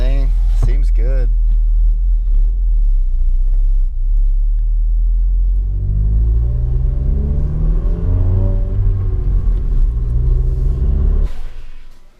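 A Volkswagen MK7 GTI fitted with a swapped-in manual gearbox on its first drive, with a loud steady engine rumble that rises as it accelerates, heard from inside the car, and a voice talking briefly at the start.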